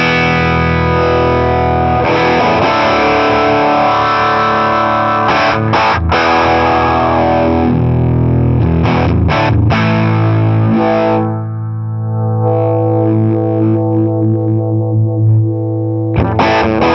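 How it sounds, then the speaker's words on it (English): An electric guitar played through an Orange Two-Stroke EQ pedal set for distortion rings out loud and alone, with sustained, saturated chords, a few short breaks, and notes left to ring and decay. "It's a good distortion sound."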